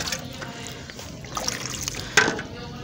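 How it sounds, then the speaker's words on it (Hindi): Water trickles and splashes as it is poured into soil in a seedling pot, a soft continuous dribble with a brief louder splash near the end. "इसलिए मैं इसमें ज़्यादा पानी दे दूंगा।"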